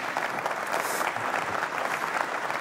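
Steady, dense applause from a large audience at a VMworld 2014 Europe technology conference general session, filling the hall evenly with no talk over it.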